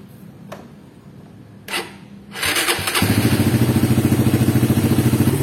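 Suzuki Satria FU motorcycle fitted with a PE28 carburetor and no air filter cranks with a couple of short clattering attempts, then fires and holds a loud, rapid, pulsing idle close by.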